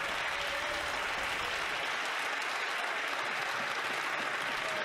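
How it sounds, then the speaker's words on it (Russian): Sustained applause fills a session of the Canadian parliament, dense and steady across the whole stretch with no voices standing out. "Аплодирует, смотрите, все аплодируют,"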